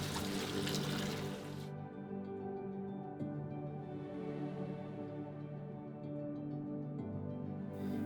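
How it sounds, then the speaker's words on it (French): Butter grains are rinsed with water after churning, giving a steady, close stream of running and splashing water that continues throughout without pause. "Le grain est alors lavé et ensuite débarrassé du babeur qu'il contient."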